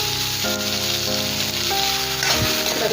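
Sliced onions hit hot oil already sizzling with cumin and bay leaf, giving a steady, close crackling fry throughout with brief stirring clatter near the end.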